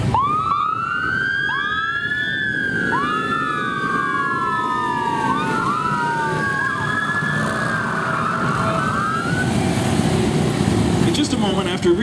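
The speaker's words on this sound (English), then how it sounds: "for those of you who enjoy lights, noise, and action, with lights and sirens," Several police motorcycles in a parade sounding wailing sirens together, overlapping rising and falling tones that are loud and close over steady engine and crowd noise, with a voice faintly underneath.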